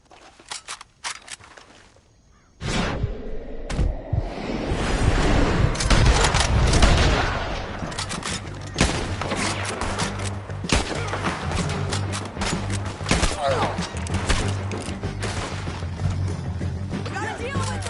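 Red Dead Redemption 2 shootout on PS4, with heavy gunfire bursting out after a brief quiet start and continuing as dense, booming, overlapping shots, near and far, while voices talk over the fight.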